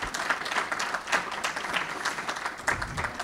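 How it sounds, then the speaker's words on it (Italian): Applause from an audience at a talk, a brief patch of scattered clapping with uneven bursts, fairly close and moderately loud. "Facciamole un applauso."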